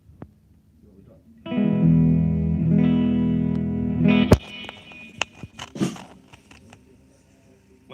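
An electric guitar played through a Boss Katana amp on a clean tone with reverb and a touch of delay rings out as a sustained chord, then is cut off, followed by scattered string noise and clicks.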